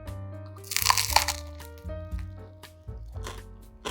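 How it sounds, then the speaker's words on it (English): Someone bites into a crusty Hong Kong French pudding bread, custard-soaked toast with a crunchy crust, giving close, loud crunching and crackling bites over a couple of seconds, with no talk. "I'm going to take a bite."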